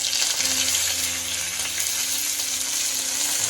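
Curry leaves and coriander frying in hot oil for a Kerala-style fish curry, giving a steady close sizzle and crackle with a low tonal hum underneath, no voices.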